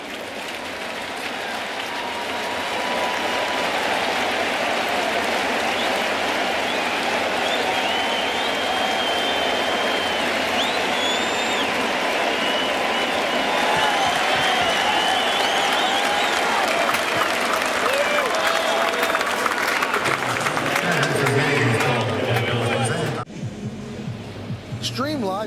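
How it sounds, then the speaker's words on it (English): A large baseball stadium crowd at a Yankees home game against the Astros applauds and cheers steadily as the young pitcher leaves the mound, a sustained roar of clapping that cuts off abruptly near the end. "Let's listen to the hand that this kid's going to get from this crowd."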